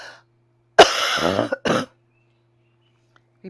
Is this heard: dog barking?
no